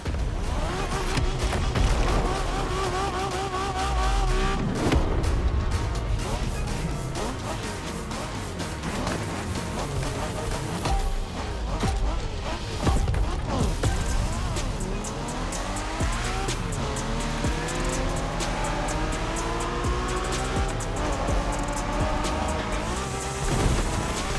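Race cars in The Crew Motorfest driving game, continuous loud engine whine with rising and falling revs through gear changes, tire squeal and skidding, and cars rushing past, steady throughout.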